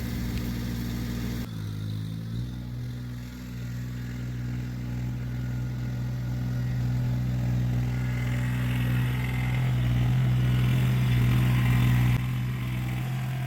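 A tractor engine runs steadily at a low, even drone, raising its front bucket toward a bee swarm hanging in a tree branch, the pitch lifting slightly and growing louder toward the end.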